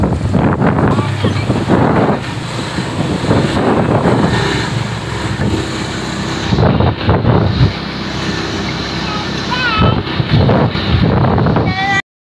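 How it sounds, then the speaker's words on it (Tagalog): Big sea waves crash and surge along a seaside boulevard on a windy day, a constant loud roar of surf with heavy wind buffeting the microphone throughout. "Sa tingin ko, mga malaking alon ngayon. Mga malaking alon"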